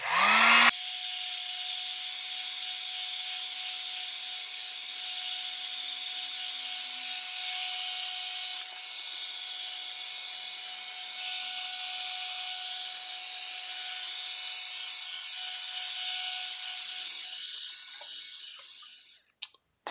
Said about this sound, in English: Now I'm going to use my Drillmaster heat gun to heat this up